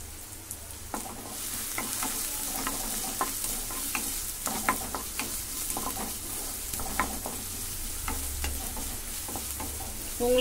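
Chopped onion frying and being stirred in a pan for rava upma, with a continuous close sizzle and frequent scraping, clicking strokes of the spoon throughout.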